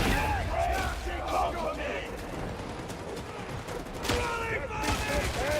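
Bursts of gunfire from an enemy gunner in a forest video game demo, dense rattling volleys mixed with whistling battle sounds, a voice talking over the din.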